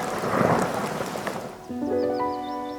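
Heavy rain hisses loudly with low rumbling thunder, then the downpour gives way to soft sustained musical tones.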